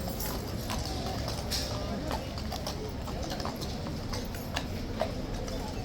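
A horse's hooves clip-clop steadily on hard ground at the Horse Guards box, faint and somewhat distant beneath a busy crowd murmur.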